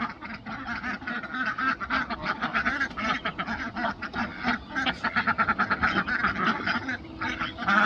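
A flock of ducks quacks continuously in a barnyard on a homestead, a dense, busy chorus of overlapping calls, close and loud throughout with no talk.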